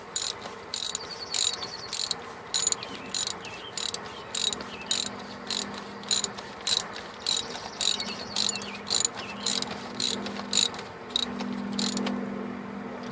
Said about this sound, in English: first we're going to screw it down, and once we get down to when it's getting tight, I'll use a torque wrench